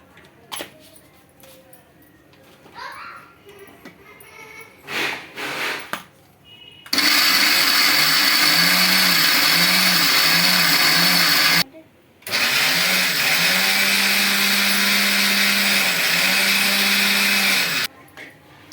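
After some quiet background sounds, a mixer grinder grinds spicy chilli powder loudly in two long bursts with a brief pause between, its motor pulsing as it grinds.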